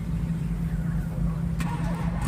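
A Mopar car engine idles with a steady low rumble throughout, rising slightly in a brief rev partway through, close and continuous with no talk.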